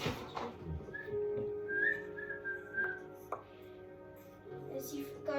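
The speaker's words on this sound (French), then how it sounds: "Et quand je siffle, c'est pour qu'il vienne." A person whistles repeatedly to call a tired dog back, the whistle tones rising and falling over several seconds at close range with quiet background noise.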